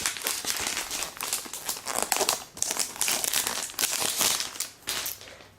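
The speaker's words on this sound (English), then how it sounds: "Peel off the plastic." Plastic film peeled off a new 11.6-inch MacBook Air during unboxing, a close, busy crinkling and crackling that surges in repeated bursts for several seconds with no talking.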